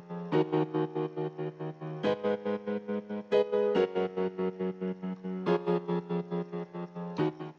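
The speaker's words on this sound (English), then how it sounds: "the piano, so we got the same thing, but we got that love filter on again" Piano chords from an FL Studio hip-hop beat, run through the Fruity Love Philter gating effect, pulse in a steady, evenly chopped rhythm. The chords shift every couple of seconds, clear and upfront with no voice.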